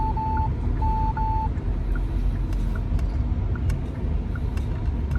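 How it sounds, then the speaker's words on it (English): A car rolls past on a Florida road, a steady low rumble of engine and tires heard from inside a vehicle, with a few short beeps near the start. "I'm gonna let this car go by."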